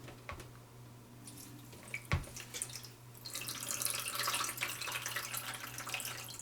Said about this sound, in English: I'm going to fill it up with vinegar.